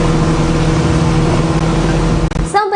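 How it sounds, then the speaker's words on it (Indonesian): A speedboat engine roars loudly and steadily up close, with a constant droning hum that breaks off near the end. "Deru suara mesin speedboat terdengar cukup kencang."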